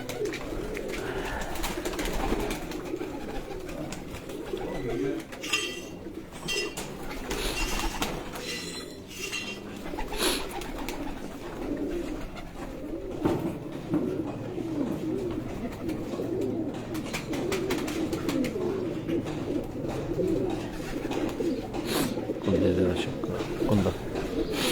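Teddy pigeons coo in a home loft, soft steady cooing under near continuous talking, with occasional metallic clinks.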